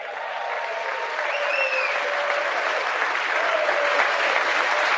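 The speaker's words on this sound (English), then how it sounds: "everyone just started clapping again" A State of the Union audience breaks into sustained applause, dense crowd clapping filling the hall at a steady, loud level for the whole stretch, with faint tonal sounds drifting above it.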